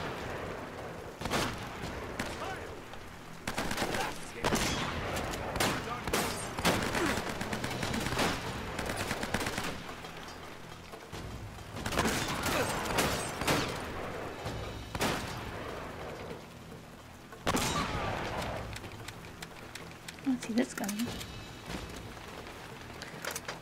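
Rapid AK rifle fire in Uncharted: Drake's Fortune, repeated bursts of automatic gunfire running almost continuously at moderate loudness with brief pauses between volleys.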